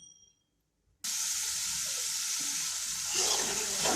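Spice paste frying in a pan in a home kitchen, a loud, steady hiss and sizzle that begins abruptly after a brief quiet and swells slightly near the end.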